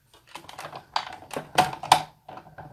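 Clear acrylic cutting plates with card stock on a magnetic platform fed through a manual die-cutting machine for a double triangle fold card, heard as a close series of clacks, rattles and grinding bursts with no talking.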